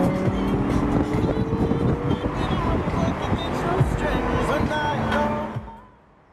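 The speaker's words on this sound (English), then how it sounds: "This is my other car, this is my everyday car." An everyday road car's engine runs steadily and loudly up close with wind buffeting the microphone, then cuts off abruptly near the end.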